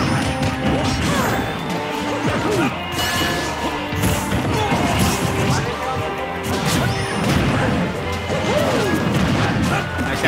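Heavy smash hits and impact thwacks from a Super Smash Bros doubles match land in quick succession over constant game noise and crowd bustle, loud and dense throughout, with a down smash among them.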